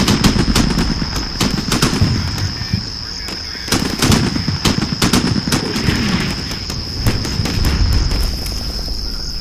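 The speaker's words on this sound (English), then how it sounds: "That big explosion was the howitzer going off." A 105 mm howitzer barrage and gunfire rake an area in the Combat Mission: Shock Force war game, with heavy booms mixed with rapid rattling bursts in a loud, continuous battle din.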